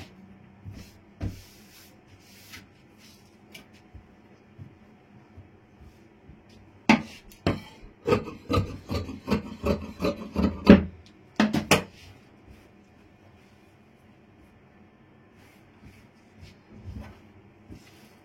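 Scissors cut through doubled fabric along a scalloped edge for an umbrella frock sleeve, giving a close, quiet run of snipping and rustling strokes in the middle of the stretch, with no talking.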